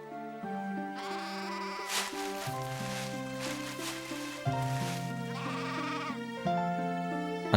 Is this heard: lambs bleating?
yes